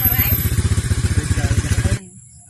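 A motorcycle engine chugs close by in steady, rapid low pulses for about two seconds, then cuts off abruptly, leaving quiet background.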